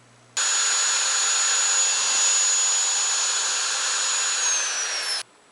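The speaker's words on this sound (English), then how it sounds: "you'll need to drill a hole in the center of the cap" A power drill runs steadily at close range for about five seconds, drilling a hole in the center of a plastic cap, a loud high-pitched whine over harsh grinding, then stops abruptly.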